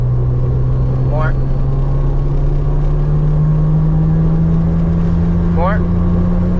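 A Megasquirt-tuned car engine holds a loud, steady drone under light throttle, its pitch creeping slightly upward, with two brief rising chirps over the constant hum.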